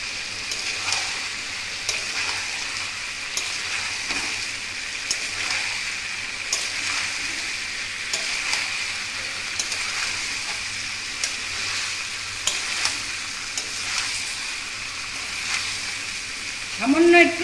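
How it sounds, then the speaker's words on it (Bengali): Boiled green jackfruit fries in a pan with a steady, close sizzle, broken by regular scraping stirs and a louder clatter near the end. "এরপর ইঁচড়গুলো দিয়ে দেবো।"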